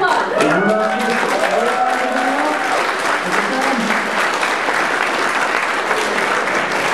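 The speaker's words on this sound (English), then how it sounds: "Red applause" A convention audience at a Grifball panel bursts into loud, sustained applause. Voices talk over the clapping at first, then the clapping carries on by itself.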